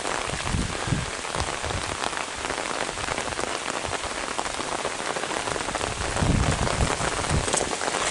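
Steady rain pattering on leaves and surfaces in a wet woodland, a dense continuous hiss with occasional heavier drips, close and even throughout with no voices.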